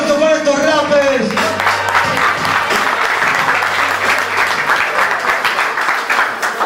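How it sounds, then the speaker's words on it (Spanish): A voice speaks briefly at a rap battle's round of sixteen in Río Gallegos, then a crowd bursts into sustained, dense applause that carries steadily to the end. "aplauso para estos rappers"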